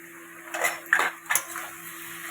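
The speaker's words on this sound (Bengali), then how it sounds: "আমি মশলাটা দিয়ে দিয়েছি এবার ফুলকপিগুলো দিয়ে দিচ্ছি" Cauliflower pieces go into a pan of spiced koi fish curry, giving a few close clinks and scrapes of a utensil against the pan in three quick bursts over a steady low hum.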